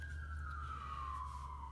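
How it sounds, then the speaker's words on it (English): An emergency vehicle siren wailing outside, a single tone gliding slowly downward, distant and faint over a low background hum, with no talking. "I wish the sirens would stop"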